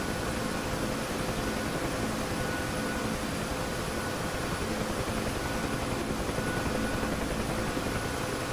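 Steady, dense rotor and turbine drone of a UH-1 Huey helicopter in the DCS flight simulator, a continuous broadband roar holding level throughout with no voices.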